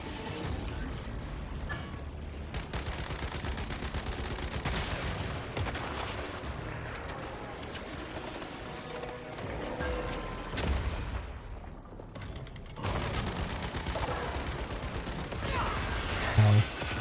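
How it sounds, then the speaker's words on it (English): Sustained machine gun fire in the survival shooter Once Human, dense bursts of loud gunfire running almost the whole time with a short lull, with brief talk in places. "go full machine gun on it"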